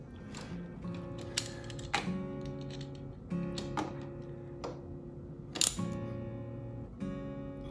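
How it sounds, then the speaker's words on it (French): Hand ratchet tightening bolts on a Yamaha FJR1300 motorcycle: a series of close, crisp metallic clicks arriving in short bursts with brief pauses, fairly quiet overall. "on va finaliser le serrage avec le ratchet"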